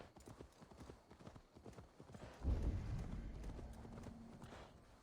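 Horse hooves clip-clop steadily in Assassin's Creed Valhalla, a rhythmic run of hoofbeats that swells louder partway through and carries on to the end with no speech over it.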